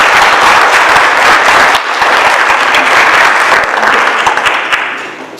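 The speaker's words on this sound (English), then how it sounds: "Let's give her a round of applause." An audience at a school board meeting gives a steady round of dense, loud applause that carries on for several seconds and thins a little toward the end.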